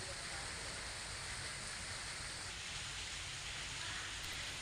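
Heavy monsoon downpour over villages on the edge of Gir in Gujarat, a steady, unbroken hiss and roar of rain hitting surfaces that stays even in loudness from start to finish.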